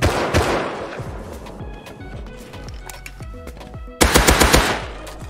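Rapid automatic gunfire in the video game Rust, dense bursts of loud sharp shots with a slower scattered stretch in the middle, then a heavy renewed volley near the end.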